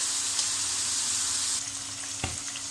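Fish frying in a pan for fish pulao, a steady broadband sizzle of hot oil running throughout at close range, with a brief clatter near the end as the pieces are moved.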